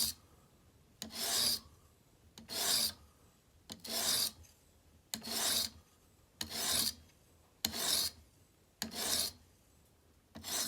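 A knife blade being sharpened in slow, even strokes against a sharpening stone, eight rasping passes, each about a second long, separated by short pauses, close and clear with no talking.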